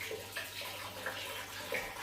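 Hot water runs from a GrainFather wort chiller in a soft, steady trickle and splash, faint and close, with small gurgling bursts and no voices.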